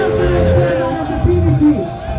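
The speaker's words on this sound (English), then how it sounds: "Please, a round of applause for Chief of Good to Me Alive," A loud crowd at a PDP political welcome event in Bayelsa State, cheering and shouting with a dense wash of voices, some whoops, and music-like tones underneath.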